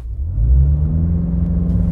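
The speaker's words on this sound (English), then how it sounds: "Instead of rear launch control, try just a brake boost launch control." A 2020 Mini Cooper Countryman JCW SUV launches off the line under launch control, a loud, close, steady low engine drone holding throughout the short burst.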